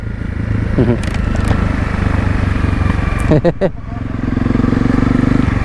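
A motorbike ridden along a road in the Philippines, its engine droning steadily close by, dipping and rising as the throttle changes, with a few brief clattering knocks partway through.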